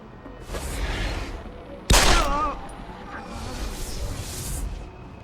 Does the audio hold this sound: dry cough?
no